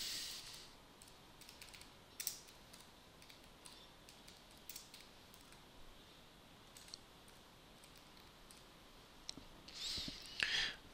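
A computer keyboard is typed with light, sparse keystrokes that sit faintly over a steady background hiss in a quiet room, with a slightly louder flurry of clicks near the end.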